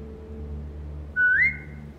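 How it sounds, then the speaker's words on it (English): A short rising whistle from a person calling a dog in The Walking Dead, a single clear sweep lasting about a third of a second, heard over a low steady game hum with no talking. "Now whistle and tell her to lie down."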